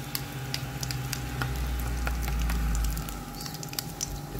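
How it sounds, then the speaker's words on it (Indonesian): Beaten eggs frying into an omelette in a pan, a continuous close sizzle dotted with small crackles and pops. "mau mendadak telur yang tadi udah diaduk-aduk, sekarang mulai didadar"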